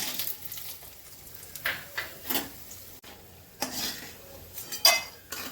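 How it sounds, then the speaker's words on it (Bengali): Bori lentil dumplings frying in mustard oil in a home kitchen, heard as a low sizzle beneath repeated stirring and clinks of a metal spoon against the pan, with several sharper scrapes and knocks close by and no speech. "প্রথমেই আমি বড়িগুলো ভেজে নিচ্ছি।"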